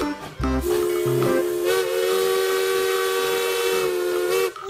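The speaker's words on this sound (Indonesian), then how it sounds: "Wih, ada kereta api klasik." A toy steam train's whistle blows loudly and steadily for several seconds, with a hissing edge, stopping abruptly at the end.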